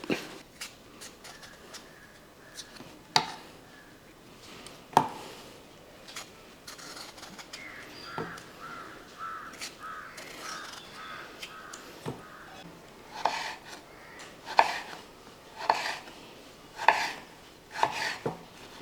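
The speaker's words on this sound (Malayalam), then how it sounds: "ഇതേപോലെ പോലെ ഒന്ന് അരിഞ്ഞെടുക്കുക" A knife chopping potatoes on a board for a Kerala-style potato fry, a run of sharp, fairly close taps at an uneven pace, some coming in quick clusters, with no talking.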